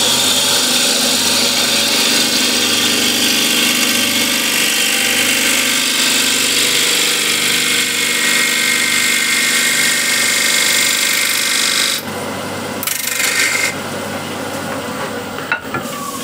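A dull spindle gouge cuts the outside of a split wooden bowl spinning on a lathe, a steady rough shaving hiss and motor drone that continues evenly, then thins and breaks up near the end.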